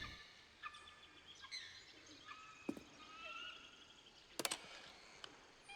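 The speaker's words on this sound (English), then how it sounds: "Stanley flipped through one video of silly birds after another" Silly bird calls play from videos in The Stanley Parable: Ultra Deluxe. Faint chirps and tweets repeat over a soft hum, with a brief clustered squawk near the end.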